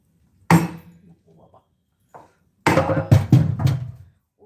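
Heavy pounding of coconut in a mortar and pestle: one strike, a pause, then a quick run of four uneven thuds close together, loud and near.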